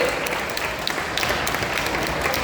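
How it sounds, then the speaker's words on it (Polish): Audience applause at a studio music show finale, heard as dense, steady clapping that fills the whole short stretch, loud and close, with a few cheers rising out of it. "Wielkie brawa"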